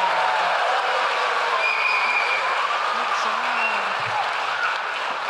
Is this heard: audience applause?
yes